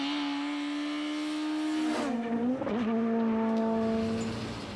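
A Citroën Saxo rally car screams past at speed during a British Rally Championship event, its high engine note climbing, dipping sharply as it shifts or brakes, then rising again, loud and close before fading slightly away.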